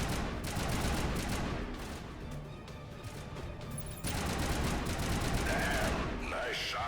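Dense, sustained gunfire from the Mass Effect Legendary Edition game on Feros, loud bursts running throughout with a brief dip midway before the shooting surges again.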